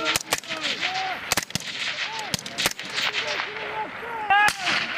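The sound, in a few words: gunfire during Marine battle drills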